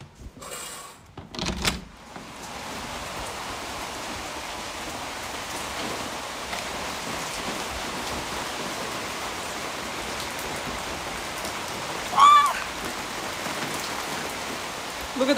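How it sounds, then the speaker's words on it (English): Heavy rain pours outdoors in a dense, steady hiss lasting throughout, with a few brief bumps and handling noises near the start and a faint voice partway through. "Can you hear the rain?"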